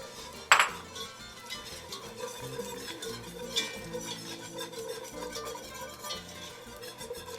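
Flour being stirred into melted butter for a roux in a pot, heard as steady scraping and swishing of a spoon with a sharp clink near the start and lighter taps later, with no one talking.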